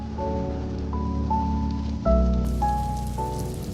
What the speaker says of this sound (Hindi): ये हसीन बरसती बारिश